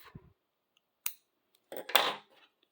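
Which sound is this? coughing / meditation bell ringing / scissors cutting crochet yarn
scissors cutting crochet yarn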